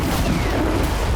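Israeli artillery shells and missiles firing in a rumbling, dense burst of low booms and blasts, a brief, heavy roar with no voices.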